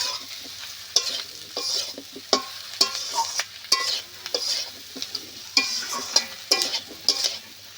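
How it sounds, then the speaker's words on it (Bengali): Aubergine and potato stir-fried in mustard oil, a steady sizzle broken by repeated scraping strokes of a spatula against the pan, close and fairly loud throughout with no talking. "বেগুনটাও বেশ ভালো করে কষে নিতে হবে।"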